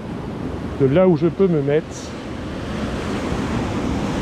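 Ocean waves break and wash against the rocky Brittany coast at a sea bass fishing spot, a continuous surf hiss with wind, while someone speaks briefly.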